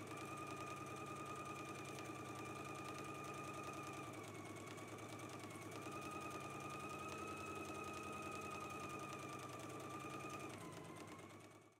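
A sewing machine runs continuously while stitching a garment seam from McCall's M8480 pattern: a steady, even mechanical whir and rapid needle chatter that holds without pause, then stops near the end, no talking.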